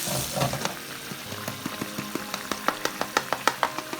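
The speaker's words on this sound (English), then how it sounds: "Just added the spicy tofu sauce, give it a nice stir." Minced meat and tofu are stirred in spicy tofu sauce, with quiet soft scraping and sizzling that turns into a run of light, regular taps of a utensil against the pan.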